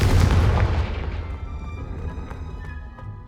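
A Confringo fire spell explodes in the video game Hogwarts Legacy, giving one loud, close boom that decays into a rumbling tail of crackling debris over a few seconds.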